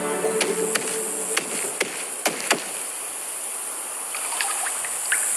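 A steady hiss of running water with scattered clicks and splashes, no voices.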